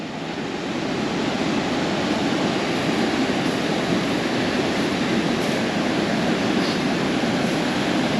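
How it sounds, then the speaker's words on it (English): Tallest waterfall in Massachusetts, seen in winter with ice on the big rocks and boulders splitting the falls, heard as a steady, loud broadband roar of rushing water with no voices. "we're coming up on the tallest waterfall in Massachusetts"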